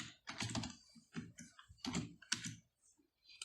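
Typing code on a computer keyboard, with bursts of crisp, close keystrokes in uneven clusters separated by short pauses, quiet overall and without talk.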